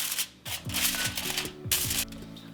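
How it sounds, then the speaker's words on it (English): Cooking spray hissing onto a sheet of aluminum foil while preparing bacon-wrapped stuffed deer backstrap, heard as several close, breathy bursts of spray alongside crinkling foil, with no talk. "cooking spray, just to spray down our foil with"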